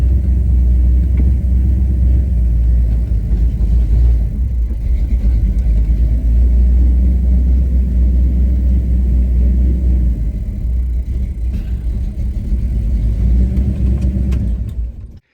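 Ford F-150 pickup truck with a freshly swapped T5 manual transmission driving along, its engine giving a steady, loud low rumble that continues throughout with slight variations in load and no talking.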